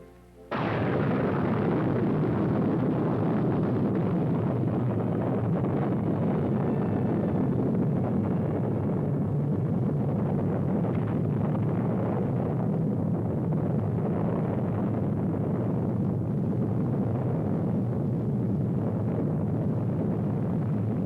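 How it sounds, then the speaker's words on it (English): An H-bomb detonation at Eniwetok: after a moment of quiet, a deep, powerful roar starts suddenly and keeps rumbling loudly without a break to the end. "the most terrible of all the weapons that man has ever built, the H-bomb, was detonated at Eniwetok"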